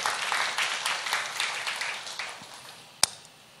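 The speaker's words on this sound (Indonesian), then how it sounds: "Beri tepuk tangan buat Tuhan" Church congregation clapping during a sermon at an Indonesian GBI service, a burst of applause that fades over a few seconds, ending with one sharp knock or clap.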